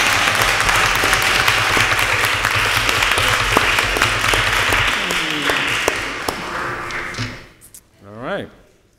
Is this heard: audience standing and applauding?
yes